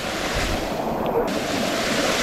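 Strong, fast-flowing water rushes steadily along a rocky path on the Brahmagiri trek near the source of the Godavari river, a loud continuous broadband roar close to the microphone with no talking.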